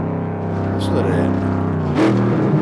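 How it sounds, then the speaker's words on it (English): Ford GTX engine in the Assetto driving game, a steady droning note that swells and revs higher near the end, loud and close with a voice talking over it. "That's an Assetto drive car sound, and it comes out of the GTX."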